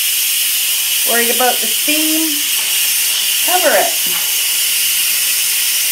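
An Instant Pot cooking elderberry syrup releases steam in a steady, bright hiss that runs through the whole moment while a person speaks briefly over it.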